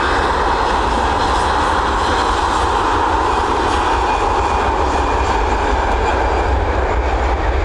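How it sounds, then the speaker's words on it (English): Jet engines of an Aer Lingus Airbus A320 with unusual engine cowlings roar steadily at Dublin Airport as it departs, a loud, continuous broadband rumble and whine sustained throughout with no voices. "we've got this Airbus A320 with odd engine cowlings, Aer Lingus"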